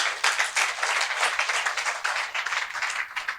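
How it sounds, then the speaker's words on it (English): Audience applause for a speaker at the close of a talk-show episode, a steady dense clatter of many hands clapping, fairly near, running continuously without voices. "can you please give a big round of applause to the speaker today"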